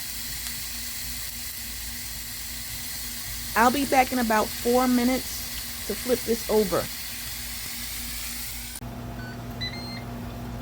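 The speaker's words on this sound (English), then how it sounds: "You can hear the steak sizzling." A NY strip steak sizzles steadily on a Ninja Woodfire grill, hissing throughout, with someone talking briefly over it midway; near and moderately loud.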